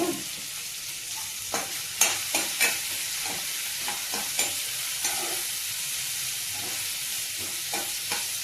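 Chopped onions sizzle steadily in a hot pan while a spoon scrapes and stirs them in occasional sharp knocks, a continuous frying hiss underneath, close and moderately loud with no talk.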